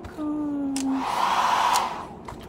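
A hair dryer blows on someone's hair, its loud, steady whirring roar running unbroken from start to finish with no talking.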